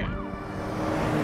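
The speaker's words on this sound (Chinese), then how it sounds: "这么多警车咯" Police car sirens wail in the video game Blair Witch, a loud, continuous rising and falling tone over a low engine-like rumble.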